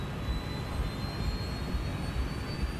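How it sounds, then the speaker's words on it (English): Jet airliner engines roar steadily as the plane accelerates down the runway for takeoff, a loud continuous rumble with a thin high whine held throughout, no voices. "The crew monitors the speed as they accelerate down the runway."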